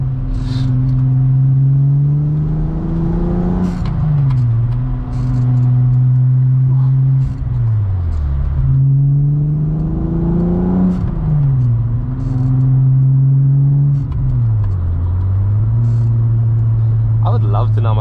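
A modified 12v VR6-swapped Mk2 GTI with cams and short gear ratios rises and falls through repeated pulls, with blips on the downshifts and a loud, close engine note heard from inside the car, with talk over it.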